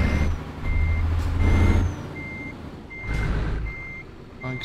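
A truck in Euro Truck Simulator 2 sounds its reversing beeper in a steady series of regularly spaced beeps over a rumbling engine, with a brief hiss of air brakes and no speech.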